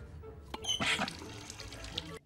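A faucet in the 1995 film Casper sputters and gushes brown water in a short, close burst that cuts off after about two seconds.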